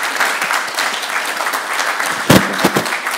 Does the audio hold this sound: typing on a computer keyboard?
no